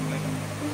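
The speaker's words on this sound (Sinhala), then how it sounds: "ලස්සන වතුර පාරක්" A stream of water flowing outdoors in snowy winter Germany, a steady broadband rush throughout the short moment with a faint low hum underneath and no voices.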